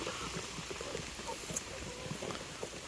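Rain falls steadily on an off-grid farm, a soft continuous patter with scattered light drips and taps on nearby surfaces, fairly faint and even throughout.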